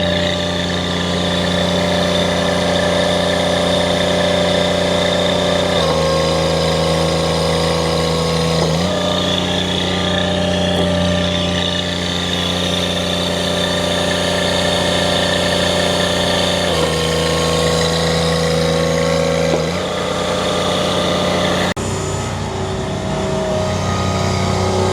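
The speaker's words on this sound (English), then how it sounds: "Right now you can hear we got that Kubota D902. He's just singing right now, ready to split some wood." Kubota D902 diesel engine idling on an XDI log splitter, a loud steady mechanical drone with a few brief shifts in pitch and load, running alone.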